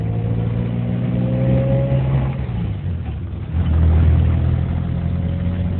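A motor vehicle comes up from behind on a road: a steady mid-pitched engine hum with a rising tone that swells louder near the end, with no talking.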